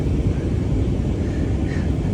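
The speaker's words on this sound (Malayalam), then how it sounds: "ഫ്ലൈറ്റ് ലാൻഡ് ചെയ്യാണ്." Steady, loud low rumble of an airliner cabin as the flight lands at Kuala Lumpur, a dense continuous roar with no distinct events.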